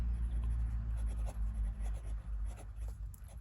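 A Ben Walsh Gravitas prototype fountain pen writes on 90 GSM Clairefontaine paper, giving a soft, close scratching with short rhythmic strokes over a low hum and no talking.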